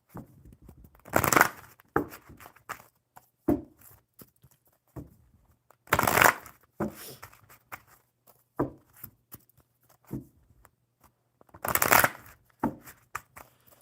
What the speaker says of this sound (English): I'm going to shuffle the Enchanted Map deck